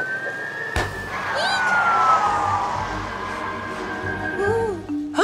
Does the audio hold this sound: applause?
no